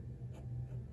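A Kakimori brass dip pen scratches across paper in a short, close, quiet stroke over a low background hum.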